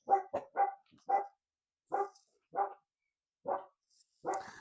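Several dogs barking at home in a quiet room: about eight short, separate barks, a few in a quick burst at first, then spaced out at irregular intervals, moderately close and with no talking.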